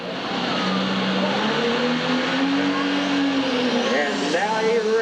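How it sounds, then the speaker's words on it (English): A car engine revs hard during a burnout at a New Year's event in Macon, Missouri, holding a loud, steady roar with pitch slowly rising and shifting, while a voice talks over it. "You'll see the RPM start to come up."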